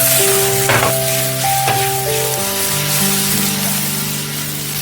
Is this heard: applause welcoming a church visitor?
no